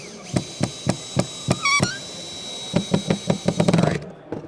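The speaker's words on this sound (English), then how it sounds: "I'm using drywall screws just to tack this in place." Drywall screws are driven into a deck ledger to tack it in place, a series of sharp, evenly spaced percussive bursts with a brief whirring pause midway, close and fairly loud with no talking.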